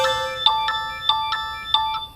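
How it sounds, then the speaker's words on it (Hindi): An incoming phone call rings with a loud, close melodic ringtone, a bright series of quick electronic note pulses in a repeating pattern, with no voices over it. "अरे तेरी टीवी जीएफ का फोन है। नाम लिया और कॉल आया।"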